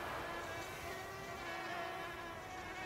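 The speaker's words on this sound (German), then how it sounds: "An Yogas Ohr begann eine Mücke zu surren." A single mosquito whines steadily close by, a thin, continuous high-pitched buzz set in a quiet dramatized scene with no voices.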